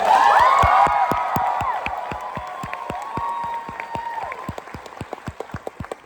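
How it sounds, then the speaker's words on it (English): An audience at a live stage show in Atlantic City applauds with a few whoops; the dense clapping starts loud, then thins out into scattered, distinct claps that fade. "give her a round of applause"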